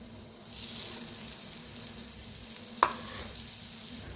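Eggplant slices being laid one by one into well-heated oil for crispy fried brinjal, giving a steady close sizzle with a brief sharp clatter partway through.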